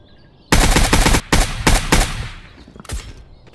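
Automatic gunfire in the shooter game Project Delta, loud close bursts of rapid shots for about two seconds, then a brief pause and one more short burst fading out, with no voices.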